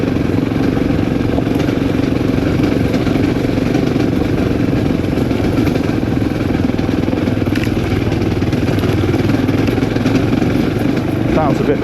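A motorcycle engine labours at low revs while climbing a rutted hill track around a solar farm perimeter, a steady close rumble that runs throughout over wind noise.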